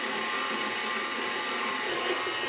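A mixer blends cookie dough slowly, a quiet, steady motor hum running continuously without pauses.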